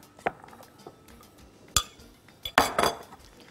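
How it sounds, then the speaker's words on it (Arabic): A utensil scrapes and clinks against a pan while a pizza-style filling for sambousek is stirred, with scattered sharp metallic knocks and a louder clattering burst near the end, close and without speech. "ونقلب"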